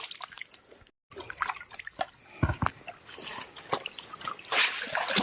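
Water in a small rural stream where fish traps are set, heard as soft, scattered drips and trickles with a few light splashes, fairly quiet and close.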